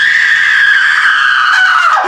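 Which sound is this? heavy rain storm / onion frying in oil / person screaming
person screaming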